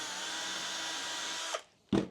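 Power drill boring a small hole in a wooden picture frame made from an old table, a steady close whine that stops abruptly, then a short loud burst as the drill starts again.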